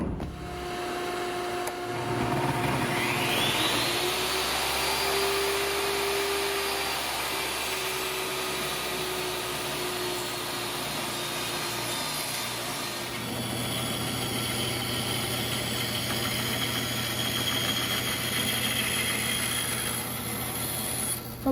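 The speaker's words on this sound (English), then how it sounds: "So I'm gonna send this through the table saw and get at it." A table saw spins up and cuts through a wood piece from a large dismantled tilt-top table, a steady whine and grinding rasp running close and fairly loud before the blade note changes partway through.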